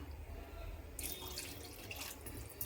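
Water poured into a potato and tomato curry: after a second of near quiet, a sudden gushing pour begins close by and keeps splashing steadily until the end.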